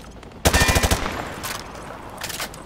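A short automatic burst of gunfire rattles out on a shooting range in a video game, roughly eight rapid shots, followed by two fainter, more distant bursts after brief pauses.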